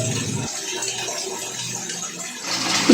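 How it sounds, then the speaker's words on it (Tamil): Water driven by an electric motor pump, run in automatic mode by a water level controller, pours steadily into a tank. A continuous close rushing flow follows a short louder burst at the start and swells again near the end. "இப்போ நம்மளுக்கு டேங்க்ல தண்ணி ஏறுறதுக்கு ஆரம்பிச்சிருச்சு."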